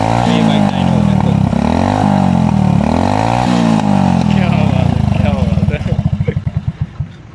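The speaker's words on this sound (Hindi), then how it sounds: "सर अब हम लोगों ने सिर्फ इसका थ्रॉटल देना है, ये बाइक डायनो होता है।" A Honda CD70 motorcycle in gear on a bike dyno revs hard in repeated rising and falling surges, then settles into a slow, loose putter as the throttle closes, loud and close.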